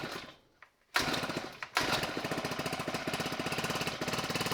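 A small petrol engine on a hedge trimmer being restored sputters, catches after a short pull, and then settles into a loud, steady, rapid chatter up close.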